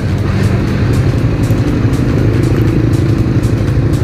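Raider R150 FI motorcycle ridden through traffic, a steady loud engine drone with wind rumble and surrounding road noise, continuous and close.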